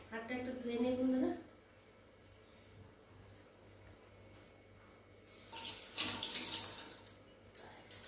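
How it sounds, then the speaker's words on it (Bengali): A kitchen tap runs while hands are washed, a soft steady splashing flow at moderate distance, with a voice speaking briefly at the start. "হাতটা একটু ধুয়ে নিই বন্ধুরা।"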